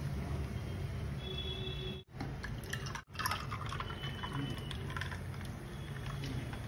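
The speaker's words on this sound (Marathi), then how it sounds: "त्यानंतर कलिंगडच्या ज्यूसने अर्धा ग्लास भरायचा. आता वरून सोडा." Soda pours over watermelon juice in a glass with a steady fizzing, liquid rush, broken by two brief dropouts partway through, and no talking.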